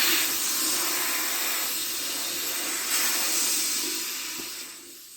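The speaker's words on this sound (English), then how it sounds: "you have to bleed the valve, this thing here" Steady, loud air hissing from a bled valve on a TUXING TXESO62 PCP compressor, a continuous broadband rush that fades slightly toward the end, with no talking.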